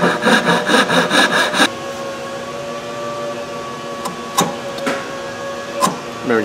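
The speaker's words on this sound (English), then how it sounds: "now to cut this out, I don't bother with the router. I'm just going to take my saw" A hand saw rasps through wood to cut out a wooden joint, with a rapid rhythmic burst of strokes up close, followed by quieter handling and a few sharp knocks.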